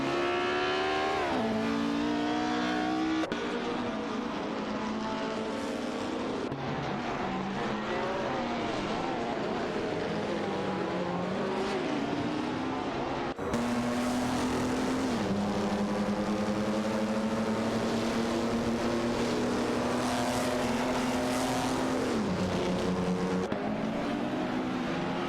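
Several racing cars in an AI-driven racing video game roar continuously for the whole stretch, engine tones climbing and dropping through gear shifts as cars accelerate and overtake, loud and close with no pauses.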